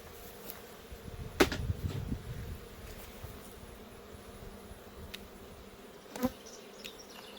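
Honey bees buzz steadily around an opened hive during a large hive inspection, a low continuous drone with a few louder passes of individual bees close by.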